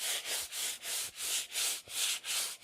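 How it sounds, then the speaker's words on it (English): Sandpaper is worked back and forth across a vintage metal patio tabletop in steady, even strokes, about eight rhythmic rasping passes with short pauses between them, close and clear, with no talking. "I'm just going to sand the whole thing."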